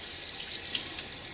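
Tap water runs in a steady hiss into a sink for rinsing during a wet shave with a Gillette safety razor, close and continuous with no voices.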